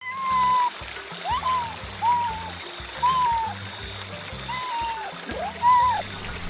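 A cat meows about six times in a steady rhythm, each call short and fairly clear, sitting above a looping bass and melody from a children's alphabet song.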